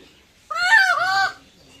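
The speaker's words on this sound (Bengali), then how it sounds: "তাই এইটা মুরগি, বাড়ির মুরগি" A native backyard hen gives one loud, harsh squawk lasting just under a second, close by and alone against quiet background.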